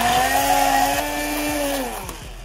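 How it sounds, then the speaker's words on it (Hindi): A hand blender whirs loudly and steadily at close range making aloe vera juice, its motor pitch dipping slightly as it works through the mixture, then easing off. "और ये हमने लगाया यहाँ पे ब्लेंडर"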